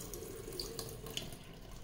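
Running tap water gushes steadily into a sink, close and continuous, with a few small splashes as lentils are rubbed and rinsed for dal makhani.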